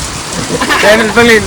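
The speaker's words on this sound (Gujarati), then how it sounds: "વરસાદ આવી રહ્યો છે" Steady rain patters in the background while someone speaks briefly over it.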